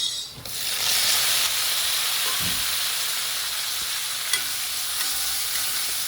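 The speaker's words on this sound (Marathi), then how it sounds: "त्याच्यामध्ये आपण कांदा टाकलेला आहे, कांदा फ्राय करून घेऊया. त्याच्यामध्ये आता आपण टोमॅटो टाकूया." Onion and tomatoes fry and get stirred in a pan for a Maharashtrian green chickpea bhaji: a loud hissing sizzle bursts up at the start, then settles into a steady steamy fry with a few spatula scrapes and one light clink.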